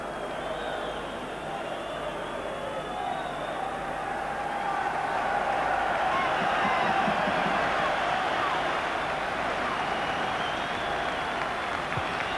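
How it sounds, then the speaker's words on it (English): A football stadium crowd at Rangers versus Hearts applauding Ian Durrant as he limps off the pitch: steady, broad clapping that swells slightly midway, distant and sustained, with a commentator's voice faintly over it. "the applause you hear now is for Ian Durrant limping round the pitch to go to the dressing room"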